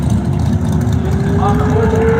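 Drag racing at a strip with a 2003 Mustang and a 1967 Camaro: a steady, loud engine drone with a rising whine, close and continuous, with a voice talking over it.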